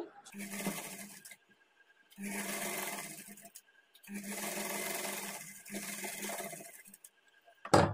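A sewing machine stitches folded fabric for a plain blouse, running in four steady bursts of a few seconds each with brief pauses between, close and clear.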